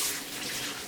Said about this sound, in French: je vais me repasser les mains sous l'eau pour avoir les mains bien